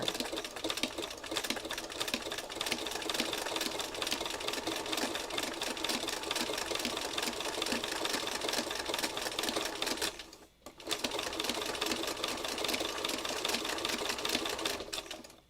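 A sewing machine stitches two strips of paper side by side for a meander book, its needle clattering in a fast, steady rhythm close by, with one brief pause before it runs on, and no talking.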